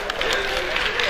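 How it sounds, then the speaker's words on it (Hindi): Brief crowd clapping at a music night event, a short burst of steady applause filling the moment. "और आप ताली बजा सकते"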